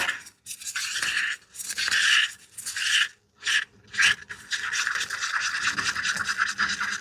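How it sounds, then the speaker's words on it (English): A spatula scrapes and smears colored paste, mixing out streaks for custom craft orders, with steady close rasping strokes that pause briefly and then run on continuously. "If I don't scrape off more paste, it's going to need mixed."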